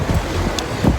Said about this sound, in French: Tellement il y a du vent.